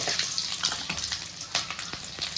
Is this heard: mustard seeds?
yes